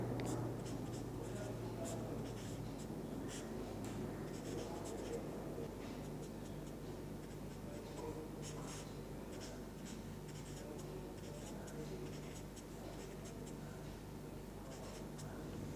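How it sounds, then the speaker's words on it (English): Chalk or marker writing out chemical structures on a classroom board, a steady run of scratchy strokes and taps with a low hum underneath throughout. "I will write some of the structures here"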